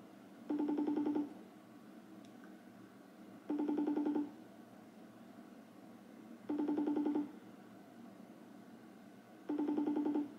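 Outgoing FaceTime call ring tone repeating four times at an even pace, each burst about a second long with quiet gaps between, clear and steady.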